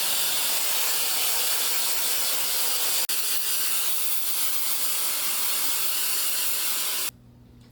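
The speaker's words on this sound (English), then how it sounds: "Now we blow dry." A hair dryer blowing hair dry: a loud, steady close whoosh of air running continuously, with one short click partway through, then cutting off abruptly near the end, leaving quiet room tone. No one speaks.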